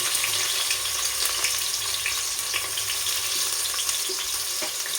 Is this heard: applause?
no